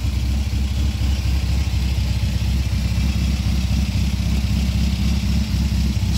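An MG MGB Roadster engine idles steadily at a low, even rumble, a close and continuous burble with no voices over it.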